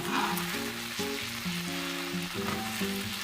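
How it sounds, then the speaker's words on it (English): Chinese large scallions and red chili pepper stir-fry in a pan, a continuous hiss of frying laid under a melodic background tune for the short stretch. "Chinese large scallions and red chili pepper. Give a stir, move around for a few minutes."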